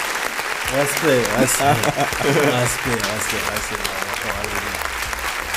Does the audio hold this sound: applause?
yes